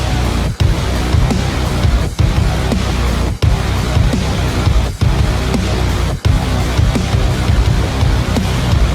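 Heavy distorted synthesizer riff from a Doom Eternal track, loud and dense with a pounding low end, playing continuously with brief rhythmic breaks.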